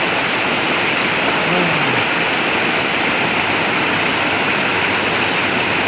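A waterfall on a natural river in Thailand roars in a steady, loud, unbroken rush of falling water, with no talk over it.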